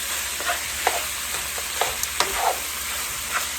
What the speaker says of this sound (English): So let's add that. Get everything a big mix.